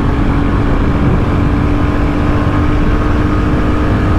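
A 2023 Royal Enfield Bullet 350 motorcycle accelerates in fourth gear near top speed, its engine a loud, steady, close drone with continuous wind rush and no pauses.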